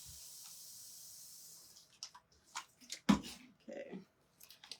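A spray can mists blue and white paper stars laid on a drying sheet, a steady close hiss for nearly two seconds, followed by scattered soft bumps and rustles.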